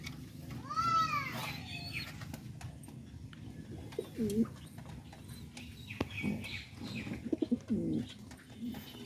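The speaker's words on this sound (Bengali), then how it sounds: "তো চলুন আজকে কিছু কবুতর আপনাদেরকে দেখাবো কিছু বাচ্চা দেখাবো কবুতরের" Pigeons and their chicks coo softly nearby, Lahori and cross-breed birds kept in a loft, with a brief chirping call near the start and scattered low coos, set against faint background voices and ambient noise.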